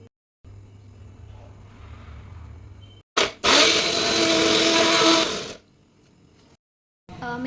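A kitchen mixer grinder loudly blends raw mango chutney of green mango, garlic, onion, red chilli and salt in a sustained two-second whir, with quieter kitchen sounds before and after.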